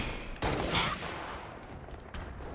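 Gunfire in the Halo: Reach online game during a laggy match, with a burst of rapid shots and a second smaller burst, fairly quiet amid steady game noise.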